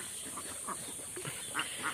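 Ducks on a farm of about 115 birds quack faintly at a distance, a few scattered calls over steady background hiss.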